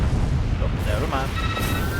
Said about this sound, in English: So that was quite an explosion.